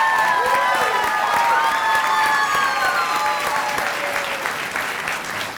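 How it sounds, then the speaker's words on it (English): Sustained applause from a large audience at a winter commencement ceremony, steady dense clapping with some cheering and whistles filling the hall for several seconds before tapering slightly. "Give them a round of applause."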